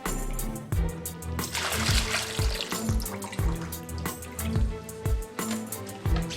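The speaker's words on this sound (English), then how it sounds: "So now you're going to empty out the water from the canister." Water is poured out of an Unger HiFlo RO30GC filter canister, coming in repeated gushing splashes and trickles at close range, with no talk over it.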